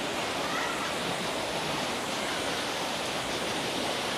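Constant roar of a waterfall at Monasterio de Piedra, heard up close near a cave mouth, a steady dense rush of falling water with no breaks.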